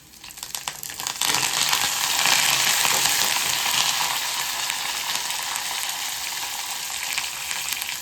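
Dry red chillies and curry leaves frying in hot oil as a tempering for pulihora, a loud, steady sizzle that swells after the first second and holds close and continuous without talk.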